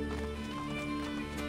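Horse hooves clip-clop steadily in the Assassin's Creed Brotherhood game, a continuous galloping rhythm under a dense layer of game music and ambience, with no talking.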